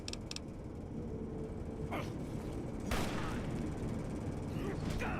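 Gunfire in Fallout: New Vegas, a couple of sharp loud shots standing out over a steady dense game soundscape, with a voice talking over it.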